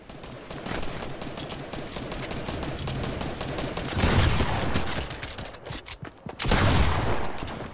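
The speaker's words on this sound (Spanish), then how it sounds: "Le disparo en la cabeza" Rapid bursts of video game gunfire crackle continuously, with louder volleys near the middle and end, no voices.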